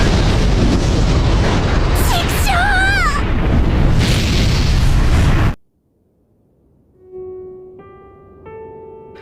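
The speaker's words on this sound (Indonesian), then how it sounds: "dalam 1 menit, bom yang ada di dalam tubuh Seryu akan meledak" Anime sound effect of a bomb exploding inside a body: a loud sustained blast with a rushing roar and whooshing swoops, cutting abruptly to silence before faint rising tonal chimes.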